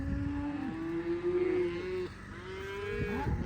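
Cattle moo repeatedly on a farm road, several drawn-out calls overlapping close by, with a steady engine rumble underneath.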